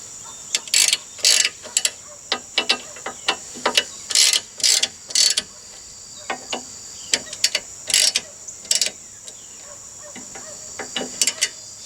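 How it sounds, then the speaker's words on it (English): A hand ratchet snugs down bolts on an AltRider reinforcement crash bar fitted to a Honda Africa Twin CRF1000L. Crisp, rapid clicking comes in repeated bursts, close and loud, with short pauses between strokes and no talking. "take a ratchet and I'll snug them down good"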